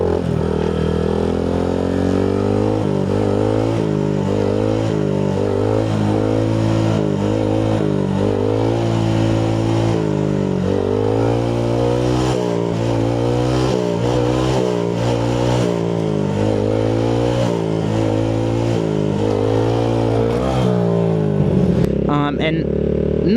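Honda Grom motorcycle engine held high near red line, a steady loud buzzing drone with repeated rising and falling revs throughout, continuous and close, with no speech over it.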